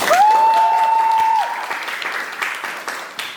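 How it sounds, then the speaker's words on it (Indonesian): An audience at a talk show applauds after Riza's performance. A short steady whistling tone rings at the start, then the clapping continues and slowly fades. "beri tepuk tangan kepada Riza atas penampilan yang sangat luar biasa"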